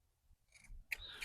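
Scissors cutting a Merry Christmas decoration for a holiday display: a couple of quick, crisp snips up close, quiet overall with faint handling sounds before them.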